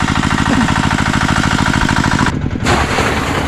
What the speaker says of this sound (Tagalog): Ayan, may kasama namin yung makina.